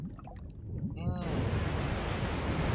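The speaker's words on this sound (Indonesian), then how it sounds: "kapalnya terserang ombak gitu" Ocean waves crash against a ship in the video game Oddria during a shipwreck scene, a sudden loud surge of rushing, roaring water that swells in and stays continuous after a brief quieter lead-in.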